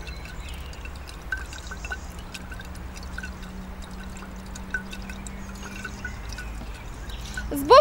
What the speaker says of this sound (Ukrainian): Далі додати ще трошечки води і знову збовтати.